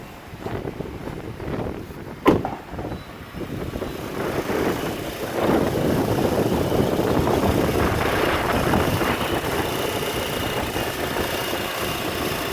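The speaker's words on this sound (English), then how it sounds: "this engine is running now" A 2012 Honda Accord engine runs steadily at idle, a low continuous rumble mixed with gusty wind buffeting the microphone, with a brief sharp knock early on.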